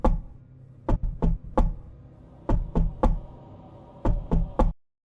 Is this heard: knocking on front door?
yes